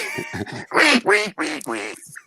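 A voice imitates a duck with a rapid series of about six nasal quacks, close and loud, during a relaxed podcast conversation.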